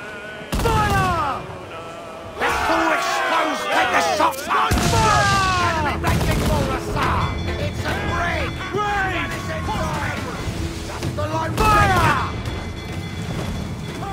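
Pirate ship cannons in Assassin's Creed IV Black Flag fire a broadside: several loud booming blasts spaced across the stretch, amid shouting crew voices and sea-battle clamor.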